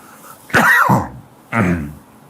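Two loud, close coughs from a man, about a second apart, each a harsh burst with a rough throat-clearing edge, and no other sound in between.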